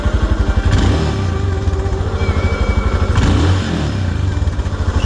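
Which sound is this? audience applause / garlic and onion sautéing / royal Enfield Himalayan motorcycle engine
royal Enfield Himalayan motorcycle engine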